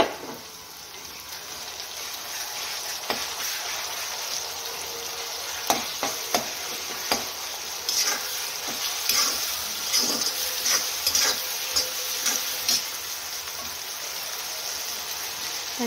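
Ginger garlic paste frying on high flame for fried rice, a steady loud sizzle with occasional sharp clicks and stirring taps throughout.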